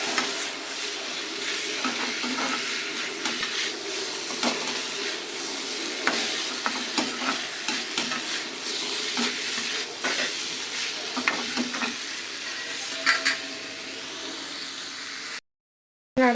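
Potatoes and green peas sizzle and frying in a pan while a utensil stirs them, with steady crackle broken by frequent scraping strokes; close and continuous, then a brief cutoff near the end.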